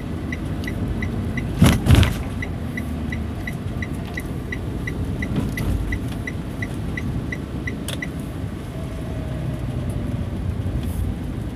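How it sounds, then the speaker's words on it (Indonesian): A parked car idles with its engine left running, a steady low rumble close by, with a soft repeating ticking and a couple of louder thumps early on. "Ini anak-anak masih tidur, terpaksa ya mobil nggak saya matiin nih."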